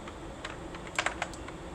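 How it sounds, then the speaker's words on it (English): Keys on a computer keyboard are tapped during a live stream, a few soft scattered clicks followed by a quick cluster of sharper presses, close by in a quiet room with no talking. "I kept rotating Control U on my keyboard instead of my"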